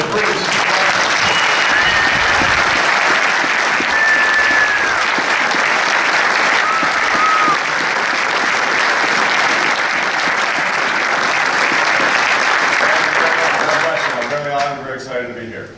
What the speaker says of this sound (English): So let's shake it up with a round of applause.